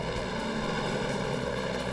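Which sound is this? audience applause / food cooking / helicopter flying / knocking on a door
helicopter flying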